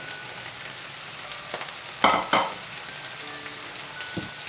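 Cubed potatoes, about two cups, frying in oil in a pan: a steady low sizzle throughout, with a couple of sharper crackling bursts and faint utensil clicks, close and moderately quiet.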